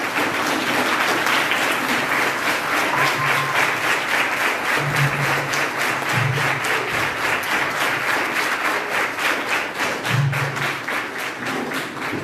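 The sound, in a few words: schoolchildren applauding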